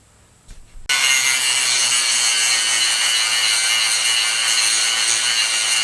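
Steady, loud abrasive grinding of an old blacksmith's hot cut chisel as cracked steel is ground away, starting abruptly after a brief quiet moment and running continuously without pause or talk.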